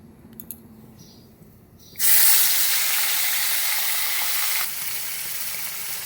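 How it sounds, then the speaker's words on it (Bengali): Oil sizzling loudly in a wok after a quiet start, a bright hiss that bursts in and holds steady before easing slightly, with no voices. "তো দেখো ওই যে ভাজছি"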